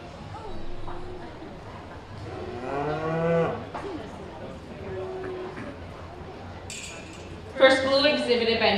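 Cattle moo at a beef show, with one drawn-out call and a louder, harsher bellow near the end rising over a steady hall murmur and occasional talk.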